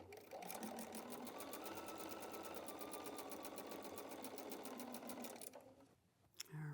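Sewing machine stitching fabric wall hanging pieces, a steady rapid needle chatter running continuously for over five seconds before stopping abruptly, followed by brief quiet handling noise.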